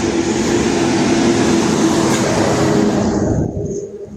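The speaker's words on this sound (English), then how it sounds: "Sorry, loud cars." Loud traffic rumbling past outside, a sustained heavy roar that holds steady and then drops away near the end, with no one speaking.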